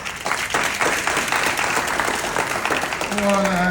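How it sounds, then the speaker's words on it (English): Graduation ceremony audience breaks into sustained, dense applause that holds steady for several seconds, with a voice and some tonal sound rising near the end. "You should give yourself a round of applause"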